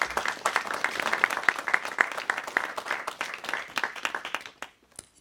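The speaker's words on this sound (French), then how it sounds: "On peut l'applaudir." Audience applause for a re-elected official at a disability-rights gathering. Steady clapping from a crowd runs for about four and a half seconds, then thins out and stops.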